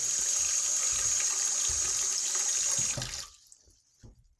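Water runs steadily through a stuck push-pop bathroom sink drain being cleaned with vinegar, a close, continuous rushing that fades out and stops near the end.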